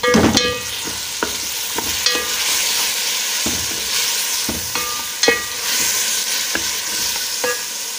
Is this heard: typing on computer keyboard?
no